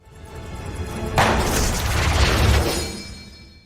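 A gunshot from a film scene, a single sharp broadband blast about a third of the way in that rings out and decays slowly over the following seconds, with no voices.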